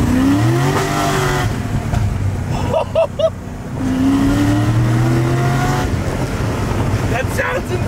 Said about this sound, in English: Let's see how this sounds when we open it up a little bit.